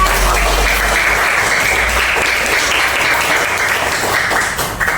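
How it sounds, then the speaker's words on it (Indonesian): A classroom of students applauds during a lesson on computational thinking. The clapping is dense and loud, holding steady for about five seconds with no talking over it. "tepuk tangan kakak"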